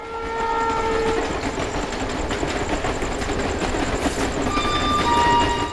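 A train pulls into Siliguri station with a steady heavy rolling rumble throughout, and sustained horn tones sound near the start and again toward the end.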